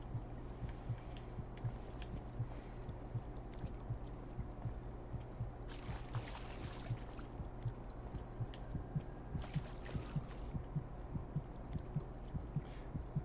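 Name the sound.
heartbeat sound effect in Silent Hill: Downpour video game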